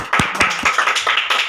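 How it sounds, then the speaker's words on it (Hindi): Clapping from a small audience on a Hindi quiz-show style classroom game, a burst of several quick claps in loose rhythm, close and fairly loud with no talking over it. "बजाइए इनके लिए तालियां।"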